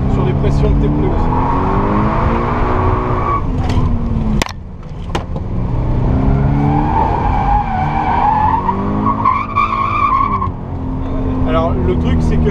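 A Toyota GT86 drifts on a track with braking and throttle stabs, and the engine revs rise and fall under repeated long tire squeals. Loud and close, with a short lull midway and people talking over it.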